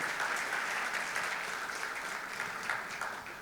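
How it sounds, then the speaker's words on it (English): Sustained audience applause at a TEDx St. Aloysius inaugural ceremony, honouring the event organizers; a steady, dense wash of clapping from a large crowd that holds at an even level throughout. "Shall we give them a huge round of applause for their efforts?"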